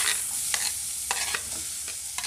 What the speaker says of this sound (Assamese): এতিয়া মই অনিয়নখিনি ইয়াত দি দিম।